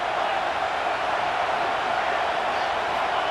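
A stadium crowd in EA Sports College Football 26 roars steadily on a 4th-down play, a dense, continuous wash of cheering that holds at an even level throughout.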